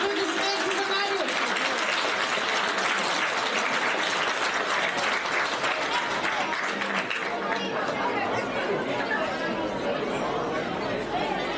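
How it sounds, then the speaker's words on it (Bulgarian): Crowd at a youth football tournament award ceremony applauding a young goalscorer, steady clapping blended with loud chatter throughout. "Аплодисменти за Мариус."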